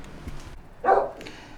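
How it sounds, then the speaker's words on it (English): A single dog bark, short and moderately loud, rising out of quiet background noise from somewhere off in the distance. "Excuse the dog barking in the background."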